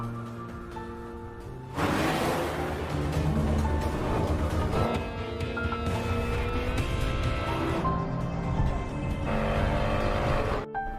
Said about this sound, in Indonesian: Ketika Yeonju memutar balik mobilnya, terlihat bahwa Nobleman ikut serta dalam pengejaran tersebut